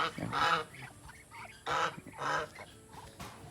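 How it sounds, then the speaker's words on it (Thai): A young farm goose honks in a few loud, nasal bursts, separated by quieter gaps with softer calls from other birds nearby. "อันนี้ก็เป็นห่านที่ ออกมาตัวเดียวเขานะครับ ก็เริ่มโตละ"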